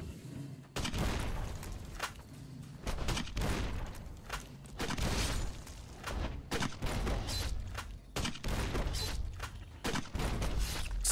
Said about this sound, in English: now we are using Incendiary.